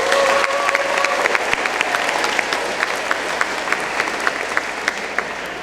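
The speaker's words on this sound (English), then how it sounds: "let's have a big round of applause for our parents." Sustained applause from an audience at an eighth grade school awards ceremony, steady dense clapping from a crowd in a hall, with scattered louder individual claps and no talking over it.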